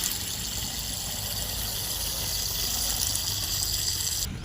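Water pouring from a tap on a farm in a steady, unbroken gushing rush, close and fairly loud, with no talk, until the flow cuts off just before the end.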